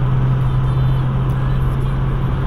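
A Hyundai Getz car engine accelerating in city driving, heard from inside as a loud, steady low hum and rumble with no break.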